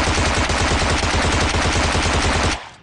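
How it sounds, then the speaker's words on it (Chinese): Nearby automatic gunfire in a battle royale shooter game: one loud, unbroken burst of rapid shots runs for a few seconds, then cuts off abruptly. "周围枪声不断"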